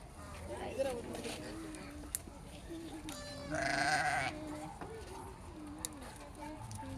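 Wild goats at a zoo give a single bleat of about a second midway through, set against background voices and general crowd noise.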